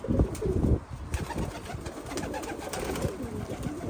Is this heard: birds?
yes